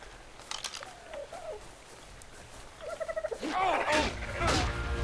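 A dodo bird creature in the ARK video game gives a series of close, loud warbling gobble-like calls that rise in intensity toward the end, with no talk.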